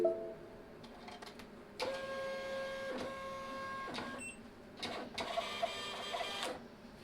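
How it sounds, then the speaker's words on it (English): A desktop label printer running off a shipping label: a steady mechanical whir in several bursts with short pauses between them, close by and alone, with no speech. "Next, I use my label printer."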